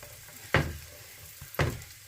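Onion dropped into a hot pan for chilly chicken, giving two sharp bursts of sizzling about a second apart over a quiet, low frying hiss.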